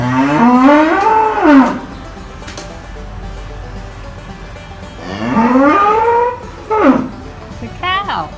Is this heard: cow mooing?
yes